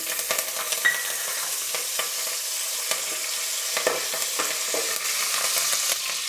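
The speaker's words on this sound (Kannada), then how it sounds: "ಎಣ್ಣೆ ಬಿಸಿಯಾಗಿದೆ ಕರಿಬೇವು ಸೊಪ್ಪು ಸ್ವಲ್ಪ ಸೇರಿಸ್ತಾ ಇದ್ದೀನಿ" Curry leaves crackling in hot oil for a tempering, a bright continuous sizzle close by with scattered pops and light stirring clinks, no talking.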